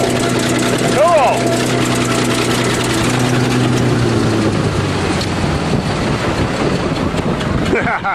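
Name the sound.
car engine running while crushed by bulldozer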